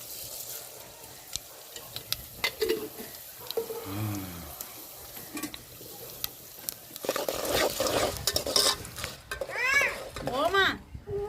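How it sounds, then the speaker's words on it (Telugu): Cumin and mustard seeds are dropped into hot oil for a raw mango pulihora tempering, crackling and sizzling close by amid stirring and water sounds, with people talking over the cooking throughout. "ఇప్పుడు జీలకర్ర ఆవాలు వేసుకుందామండి."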